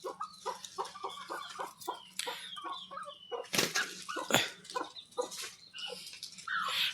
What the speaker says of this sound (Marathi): ह्या कोंबड्या खूप हावाव करत आहेत